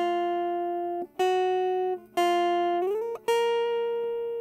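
A simple guitar melody of four sustained, clean-sounding notes moving in half steps, with a small slide between two of them, played alone and up close without any talking.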